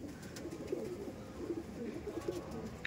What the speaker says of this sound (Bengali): এই দেখুন পায়রাটা